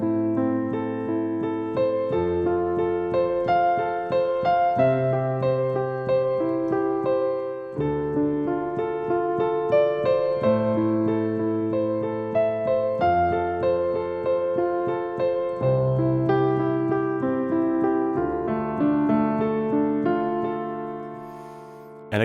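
Piano playing steady continuous eighth notes, alternating between two chord inversions with four notes each, a clear, even rhythm sounding alone without talk.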